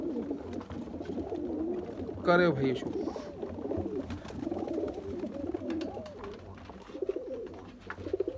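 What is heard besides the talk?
flying breeder pigeons cooing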